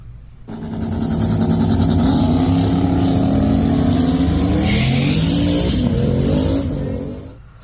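Drag racing car with a boost leash making a pass down the track, a loud sustained engine roar that swells in and holds for several seconds before fading, heard alone without talk.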